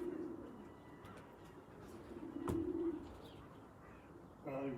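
Pigeons coo softly at a racing-pigeon loft, a low, faint murmur against steady background noise, with a brief sharper bird call near the end.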